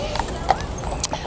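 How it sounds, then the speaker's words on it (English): Horse-drawn hansom cabs pass through Central Park, their hooves giving a few light clip-clop knocks against outdoor city ambience. "watching the horses go by and the hansom cabs"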